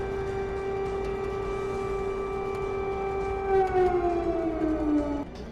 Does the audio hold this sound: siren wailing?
yes